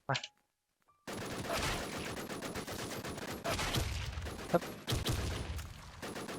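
Dense bursts of video game gunfire crackle after a short pause, with rapid shots and a few sharper cracks layered over a speaking voice throughout.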